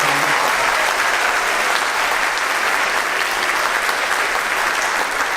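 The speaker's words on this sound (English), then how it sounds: "Would you give them a round of applause for all our performing arts?" Audience at a middle school choir concert applauding, dense, loud and steady clapping from a full crowd, sustained throughout without pause.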